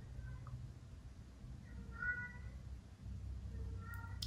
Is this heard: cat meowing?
yes